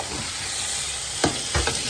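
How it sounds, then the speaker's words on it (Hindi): Chicken sautéing with ginger and garlic for a badami korma: a steady broadband frying sizzle with a couple of short stirring scrapes near the end, close and fairly loud, with no talk. "ये अदरक लहसुन के साथ मैं चिकन को भूनूंगी थोड़ा,"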